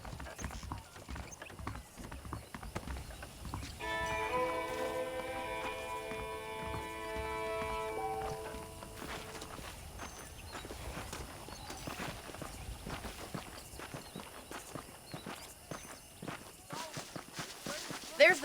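Horses in Red Dead Redemption clip-clop at a walking pace through the whole stretch, quiet hoofbeats steady under talking voices, with a brief burst of music partway through.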